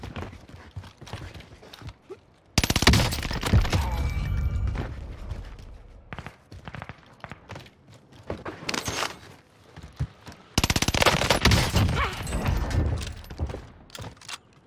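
The Owen gun fires in sustained automatic bursts in the video game Call of Duty Rebirth Resurgence. Two long, loud volleys stand out, separated by quieter game action and scattered shots.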